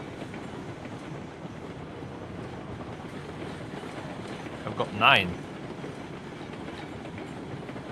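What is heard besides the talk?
train running in a video game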